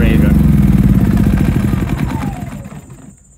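A small gasoline engine runs out of fuel and sputters to a stop, its loud uneven putter fading and dying away within a few seconds, close by.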